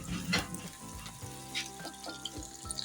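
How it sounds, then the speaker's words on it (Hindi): Ginger and garlic fry in a pan for a dhaba-style daal mash, crackling and sizzling up close with uneven pops and light stirring scrapes, fairly quiet overall. "ताकि अदरक भी अच्छे तरीके से अपना टेस्ट भी दे और फ्राई भी हो जाए"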